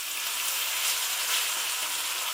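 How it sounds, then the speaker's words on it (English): Frozen garlic and frozen ginger hit a hot frying pan of softening vegetables for a squash and chickpea curry, giving a loud, even, close-up sizzle that runs unbroken throughout, with no voices. "We're going to add the frozen garlic and the frozen ginger."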